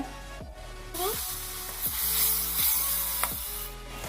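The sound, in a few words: semolina frying in ghee while being stirred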